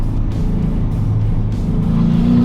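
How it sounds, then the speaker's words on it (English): Audi A4 drift car engine under throttle, a loud, close, low droning growl that holds steady and climbs slightly in pitch near the end, with no voices over it. "just drive through it and see if you can get the tail end to spin out. A little more throttle."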